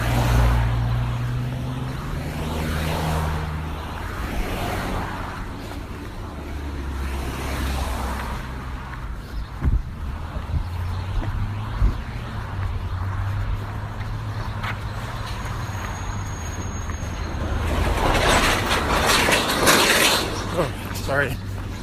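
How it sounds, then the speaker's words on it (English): A trailer rumbling past on a nearby road, a low engine and tyre roar that swells and fades, heaviest toward the end, under continuous talk. "Sorry, trailer noise."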